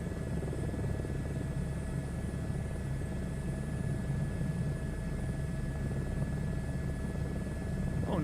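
Helicopter engine and rotor in a flight video game, a steady, loud rumbling drone with a constant turbine whine, heard alone without talk throughout.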